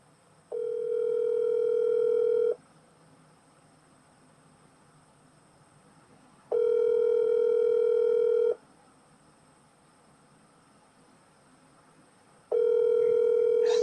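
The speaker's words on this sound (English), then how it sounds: "So the phone is ringing." Ringback tone of an outgoing telephone call, a steady tone sounding in three evenly spaced two-second bursts separated by about four seconds of quiet line hiss.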